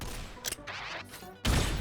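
Hand cannon fire in the shooter game Synthetik 2, heard as a few sharp blasts early on and then a loud, dense stretch of shooting at the end, over steady game background noise.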